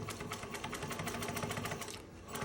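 A Juki 1541s sewing machine stitching a pocket onto suede lining with a leather needle, running in a steady rapid mechanical patter of needle strokes that briefly eases near the end.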